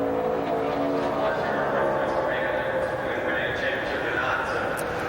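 Tony Stewart's NASCAR Sprint Cup race car runs a qualifying lap, its engine droning steadily at a distance beneath continuous commentator talk.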